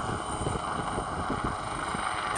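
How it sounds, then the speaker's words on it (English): A rescue helicopter hovers at Beachy Head in strong wind, its rotor beating in a rapid, rhythmic thump from some distance, under heavy gusty wind rumble on the microphone. "I don't think I can get any closer to the helicopter."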